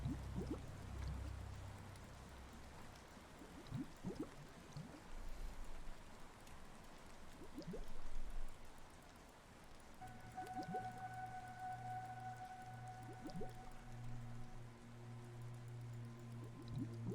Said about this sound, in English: it's raining underwater